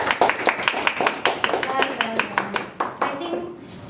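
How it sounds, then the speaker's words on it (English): A small meeting group applauds a speaker after her speech with a run of distinct, fairly close hand claps that thin out toward the end, mixed with voices talking. "I think Srishti should be given a round of applause today."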